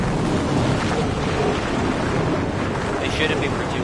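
A thunderstorm in the Mad Max video game, rendered as a loud, continuous roar of rain and wind with a deep rumbling low end that barely changes throughout.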